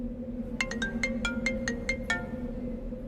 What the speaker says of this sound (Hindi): विशाखा को फोन लगाओ, एक बार पता करो क्या हो रहा है।